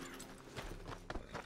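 Horse hooves clip-clopping in Red Dead Redemption 2, a quick irregular series of close hoof strikes over a low ambient hum, with no talking.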